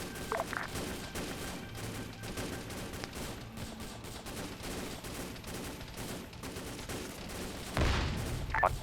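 Bursts of gunfire crackle throughout over a steady background rumble in a Vietnam War video game night patrol, with a louder volley near the end.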